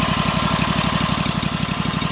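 A 2024 Wood-Mizer EZ Boardwalk 40 sawmill engine idles close by with a steady, fast, even thumping pulse that stays loud and unchanging throughout, with no voices.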